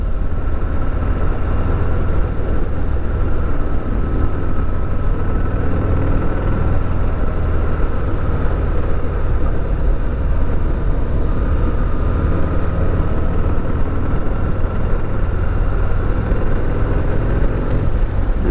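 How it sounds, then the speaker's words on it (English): A Harley-Davidson Heritage Classic on its stock exhaust rumbles continuously at close range, a deep, even engine note holding steady with no talk. "So the exhaust note's okay for a stock bike"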